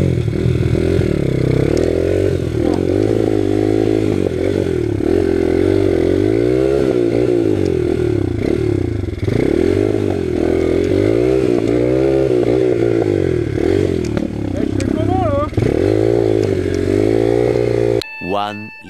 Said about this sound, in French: Mais écoutez au son de la moto